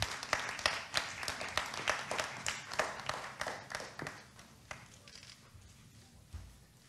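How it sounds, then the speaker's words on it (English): An audience at an athletics media launch in an indoor hall gives a round of applause, the clapping fading out after several seconds. "Round of applause, please."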